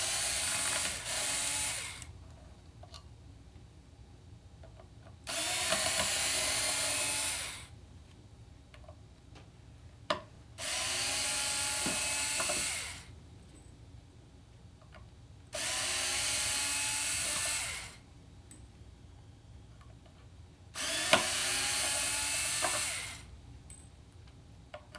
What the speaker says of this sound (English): And we're going to take these mounting screws out.